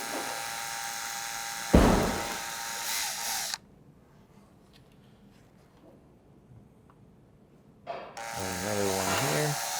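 Power drill with a 1/8 inch bit boring pilot holes in carbon fiber, a short high-pitched whine followed after a quiet pause by a second drill burst.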